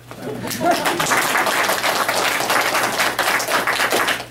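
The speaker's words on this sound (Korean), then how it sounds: "박수 안 치십니까?" A Korean church congregation applauds during a Sunday worship service, the clapping starting softly and swelling into steady, dense applause that lasts several seconds.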